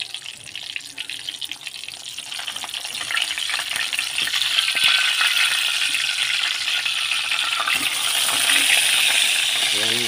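Shrimp paste omelette (tortang alamang) made with egg sizzles steadily in a pan, the frying growing louder and denser partway through, with faint clinks and no talk.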